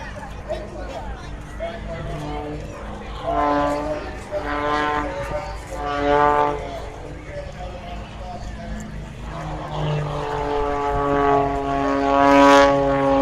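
A propeller aerobatic airplane drones overhead through barrel rolls and an inverted flat turn, its engine note rising and falling in long sweeps under steady commentary.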